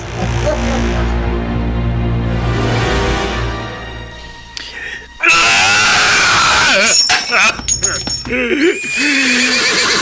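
A horse neighs in a long, loud whinny, followed after a short gap by a sharp, strained scream-like whinny with harsh breathy bursts, close and dominant.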